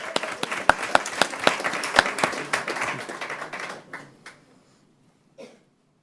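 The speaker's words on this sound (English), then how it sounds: "Another round of applause." Applause from an audience at a school board meeting for a student inductee, a few seconds of moderately loud clapping that thins and fades out, followed by a couple of faint isolated claps.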